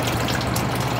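Water drains into a tank in a continuous, close, rushing gush that stays steady throughout the short moment.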